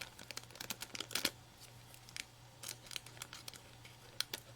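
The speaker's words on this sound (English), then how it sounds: "This is some big honking scissors, man." Large scissors snip through a paper craft tag in quick, crisp close-up cuts, irregular clusters of sharp snips with paper rustling between them at low volume.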